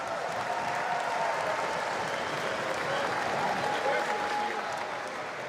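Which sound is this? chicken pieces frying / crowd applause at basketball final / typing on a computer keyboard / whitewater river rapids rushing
crowd applause at basketball final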